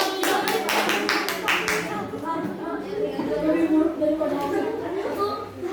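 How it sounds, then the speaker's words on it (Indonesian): A short burst of group clapping from a classroom full of children, fading after a couple of seconds as a voice continues talking. "Beri tepuk tangan untuk Davin."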